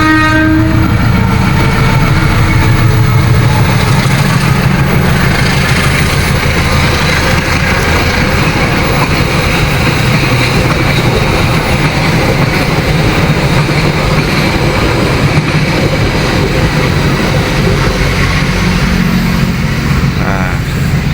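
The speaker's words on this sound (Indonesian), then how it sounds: "itu ada kereta dari Kutoarjo tujuan akhir Kiara Condong ya" The Kutojaya Selatan passenger train rumbles past close by on the Cirahong bridge in Indonesia, loud and continuous, with rhythmic wheel clatter and a horn blast near the start.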